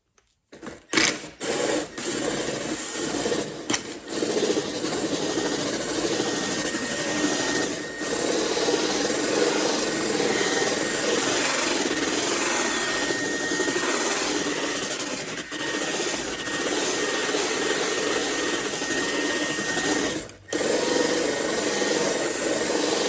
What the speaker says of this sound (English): And then we're just gonna drill until it's basically kind of gone